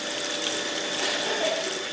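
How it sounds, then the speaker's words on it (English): Condensed water trickles from the cool end of a distillation tube in a lab setup, a steady, even hiss-like flow with no breaks, close and moderately loud. "the water vapour condenses and water trickles out the end"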